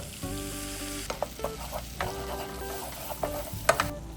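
Butter and flour sizzle together in a pan for a bechamel roux, a steady close frying hiss with scattered metallic scraping and clicking of a whisk or utensil, no voices.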